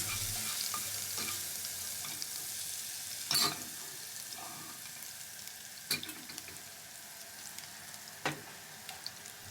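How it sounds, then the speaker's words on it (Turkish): Garlic sizzles gently in hot oil in a pan, a soft steady frying hiss broken by a few sharp spoon scrapes and clinks as it is stirred. "Yağ böyle kızmaya başlayıp sarımsaklar da cızırdamaya başlayınca şöyle minnacık çay kaşığı ucuyla bir karabiber ekliyorum"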